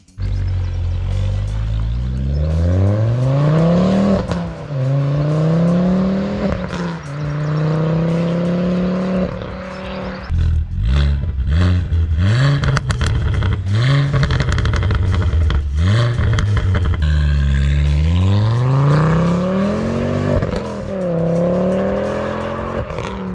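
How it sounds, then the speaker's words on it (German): A turbocharged 2.5-liter five-cylinder engine, mounted transversely in a front-wheel-drive car with 226 hp and a six-speed manual, revs loudly up and down through repeated rising gear pulls, with short lifts and bursts of throttle. "ein Fünfzylinder quer auf der Vorderachse mit Frontantrieb"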